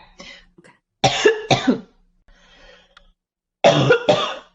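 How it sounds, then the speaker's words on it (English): Several harsh coughs from two people come in pairs, close to the microphone, with a quiet gap of softer throat sounds between bursts. "why are we both coughing?"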